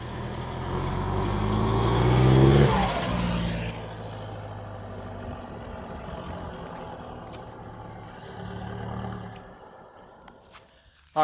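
A tuned, lifted Roxor's engine roars loud and deep through its exhaust like a diesel truck, swelling as it passes close by, then fading into a lower, steady rumble before a sharp noise at the end.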